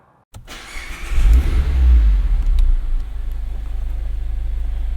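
A Mazda Miata engine starts and revs hard, then drops into a steady, throbbing idle rumble, close and loud.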